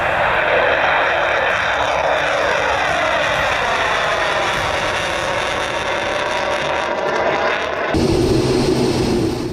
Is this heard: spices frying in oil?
no